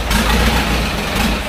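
A steady, loud low rumble of a boat engine idling at Damnoen Saduak floating market, continuous and unchanging throughout, with no voices.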